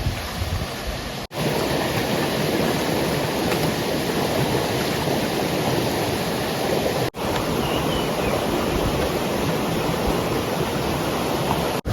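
River water flowing over stones, a loud, steady broadband rush that holds throughout with only a couple of brief dropouts and no talking.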